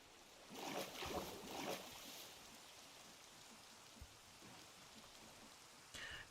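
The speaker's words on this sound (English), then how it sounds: "And now we've got rain." Rain falls in the Minecraft game with the Aetherial Airships modpack. The hiss is soft and steady, with a few louder swells and brief sharper patters.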